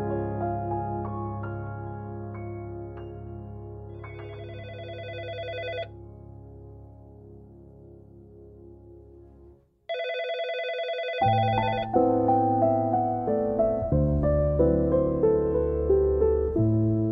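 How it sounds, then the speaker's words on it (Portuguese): Telephone ringing inside a house: repeated bright, tonal rings over a sustained musical backing, keeping a fairly steady level with a brief drop partway through, and no speech. "Telefone, Laura! Gritou uma voz de dentro da casa"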